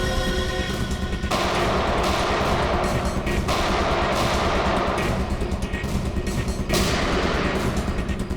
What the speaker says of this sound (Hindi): वहां से चल रही है गोलियां।